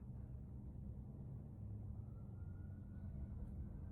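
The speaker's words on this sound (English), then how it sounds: "The sirens from a distance." Faint rumbling traffic hum with a thin rising siren tone far off in the background, steady and low throughout.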